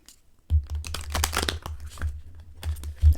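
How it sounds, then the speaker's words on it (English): An oracle card deck being shuffled by hand, giving a run of papery riffling and crinkling bursts with a few sharper slaps, close and fairly quiet, with no talk over it. "Spirit guides, they want me to shuffle, so I will shuffle."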